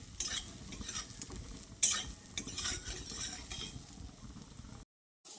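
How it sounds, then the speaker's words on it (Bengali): Soybean chunks frying in oil left from frying potatoes, with a constant sizzle broken by stirring scrapes and a sharp clink of a utensil against the pan, close up, with no talk. "এবার সয়াবিনগুলোকেও একটু লালচে করে ভেজে নিতে হবে।"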